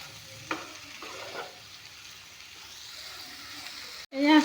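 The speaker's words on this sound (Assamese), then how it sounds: "এতিয়া অলপমান ভাজি ল'ম।" Spices and salt sizzle in a hot pan, a continuous close frying hiss broken by a few scraping stirs, then a brief pause and a short louder burst at the end.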